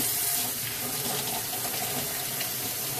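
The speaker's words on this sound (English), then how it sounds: "Put on water." A kitchen tap runs in a steady, loud, continuous stream while fish is rinsed in the sink, with no talking over the flow of water.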